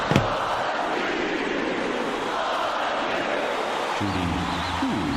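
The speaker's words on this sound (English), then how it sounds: "This crowd is going insane." Arena crowd in the College Basketball 2K8 video game roaring continuously at a steady, loud level, with a brief voice near the end.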